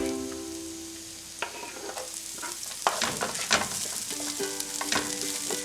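Garlic, scallion and onion fry in a pan with a steady, close sizzle, broken by a few clinks and scrapes of stirring, with no talking.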